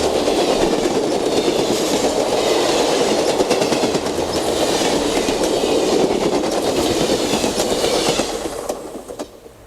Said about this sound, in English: In October of '72, we catch the Coast number 9 sporting some first attempts at Amtrak paint.